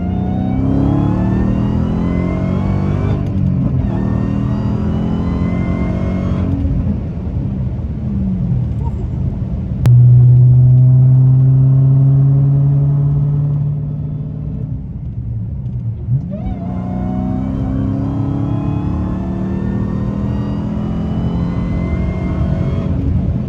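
A manual Dodge Hellcat's supercharged engine rumbles and revs hard on 18 pounds of boost, climbing in pitch as it accelerates, then eases off before pulling again, loud and close.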